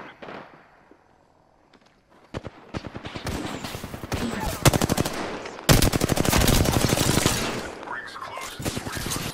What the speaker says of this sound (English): I'm getting shot. I am taking fire.